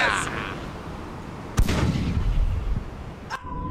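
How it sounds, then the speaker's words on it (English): A booming ship's cannon shot thuds loudly in the game Blackwake, followed by rumbling debris and a second sharp blast, amid game sound effects. "Fire the cannon! Fire!"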